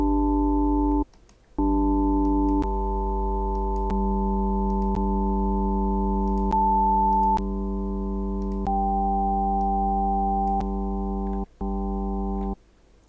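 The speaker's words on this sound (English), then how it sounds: "So here what you would have is again another sine wave." Synthesizer sine tones stacked with added harmonics, built in a harmonic editor, hold a steady buzzy chord that shifts pitch in small steps, with two brief gaps of near silence.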